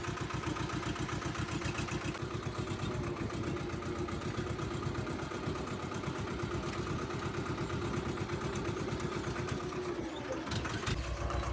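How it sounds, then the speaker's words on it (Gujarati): A tractor engine runs steadily in a field during bund-making work, close and throbbing with an even low chug. The engine note drops near the end and no one talks. "તો જોઈ શકો છો આપણે ટ્રેક્ટર ચાલુ છે"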